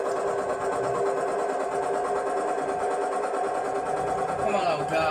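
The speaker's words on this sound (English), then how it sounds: "Right, this tractor runs well." An old tractor engine runs steadily and loudly up close on a farm, a continuous mechanical drone with a faint rhythmic chatter throughout.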